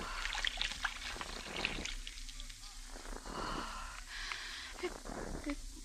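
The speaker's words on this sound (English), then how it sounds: "then pour off the top liquid" Liquid poured off as a radio drama sound effect, a short trickling, splashing pour set among faint background noise and speaking voices.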